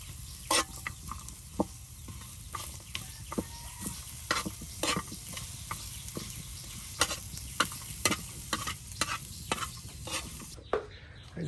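Onions, dried fish and chillies fry together in a pan at a village kitchen, giving a soft, continuous sizzle broken by irregular sharp scraping ticks from a stirring spoon, fairly quiet with no talking.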